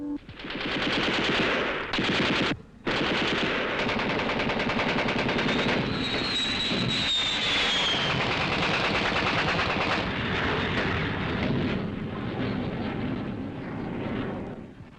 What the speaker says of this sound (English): The main defense against these air raids was rifle and machine gun fire